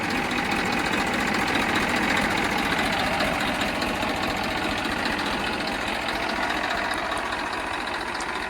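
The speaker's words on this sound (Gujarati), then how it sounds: "powerful engine" A Massey tractor engine idles steadily, a loud continuous low chugging hum that holds an even rhythm from start to finish.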